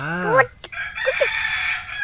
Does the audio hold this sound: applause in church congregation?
no